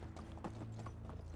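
Horse hooves clip-clop in steady rhythm in the medieval village game Medieval Dynasty, close and continuous over a low droning background.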